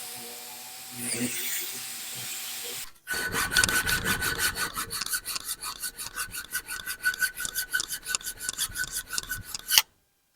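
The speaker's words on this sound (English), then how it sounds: "it's really a time-consuming part of doing this is filing these out" Rapid rhythmic rasping of a hand file scraping back and forth on a metal hunting knife blank, close and steady for several seconds after a brief quieter sound.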